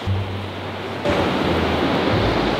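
Ocean waves wash onto a sandy beach in a loud, continuous roar of surf that swells partway through, with no talking.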